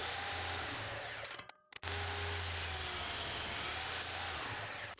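Exotic wood being cut to size for an inlaid picture frame on a power saw, a loud steady whine with a constant low hum that breaks off briefly for a split second and then resumes, running alone with no talk.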